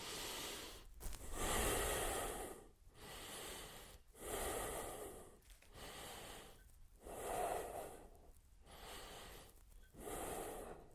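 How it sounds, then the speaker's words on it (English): Slow, steady breaths drawn in and pushed out against a band wrapped around the abdomen, each long airy inhale and exhale close and distinct, repeating in an even rhythm with brief quiet gaps and no talking. "just breathing in and out while holding that pressure"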